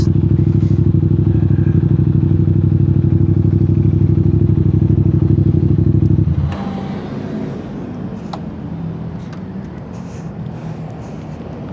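A CFMOTO CLC 450 cruiser motorcycle engine drones loud and steady up close for about six seconds, then drops abruptly to a quieter, rougher running sound with faint clicks and rattles.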